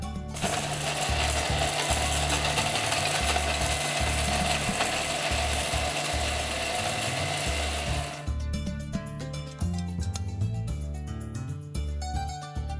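A mixer grinder loudly grinds spices for bitter gourd podi, a dense close whirring rattle that runs for about eight seconds and then gives way to lighter intermittent clattering as the contents settle.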